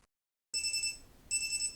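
A bedside alarm clock rings in two loud, bright electronic bursts after a brief silence, each lasting about three quarters of a second, close and alone.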